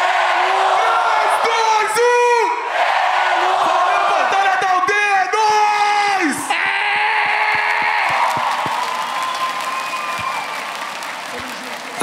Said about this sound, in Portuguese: 3, 2, 1, vocês gritam Brenos, certo?